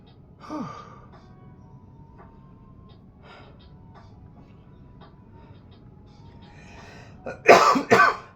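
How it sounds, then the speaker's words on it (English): A single cough near the start, then a quiet stretch with faint background noise, followed by two or three harsher coughs close to the mic near the end. "Hopefully this cough goes away soon."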